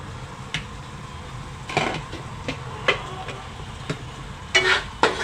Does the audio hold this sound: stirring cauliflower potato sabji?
yes